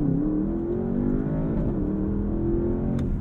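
Porsche Panamera GTS Sport Turismo pulling hard under launch control, a loud rising engine roar with audible gear changes as revs climb, dip and climb again, heard from inside the cabin without talking.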